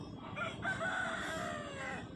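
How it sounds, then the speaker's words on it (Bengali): An Aseel rooster at a village livestock market in Jhargram, West Bengal, gives one long crow at close range over a low wash of market background noise. "পরে একটা খুব সুন্দর মোরগ দেখছেন"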